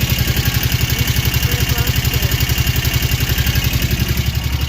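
An ATV engine runs at a steady idle, a loud rapid even putter with a clattery mechanical edge and no break.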